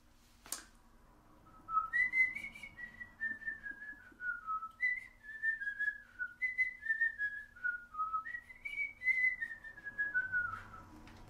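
One person whistles a slow melodic tune alone, phrases gliding up and down in a steady sequence, clear and close after a sharp click at the start.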